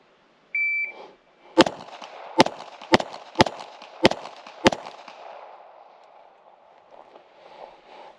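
Six rifle gunshots fired at a target, sharp loud cracks spaced about half a second to a second apart after a short beep, each trailing off into outdoor echo.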